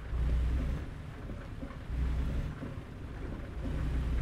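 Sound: rain in a video game

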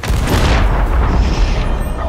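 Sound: barrel exploding in the video game Sea of Thieves

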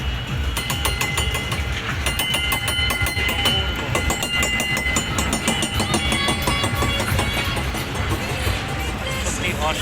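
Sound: passenger train arriving at station

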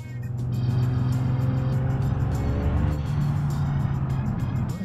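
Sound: car engine driving off in BeamNG video game

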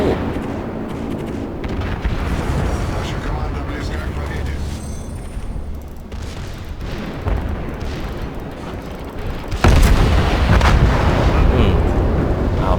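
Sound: naval gunfire in World of Warships video game

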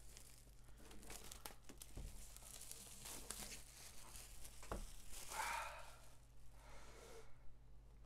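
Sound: pulling wrapping off iPad box

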